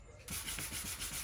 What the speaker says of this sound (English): after giving it a light sanding, I was actually pretty impressed with my filling job